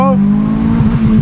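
A manual 2004 Honda Civic Si launching hard in first gear from inside the cabin, its engine note climbing in a steady loud drone with a rising harmonic stack and some tire or road rumble underneath.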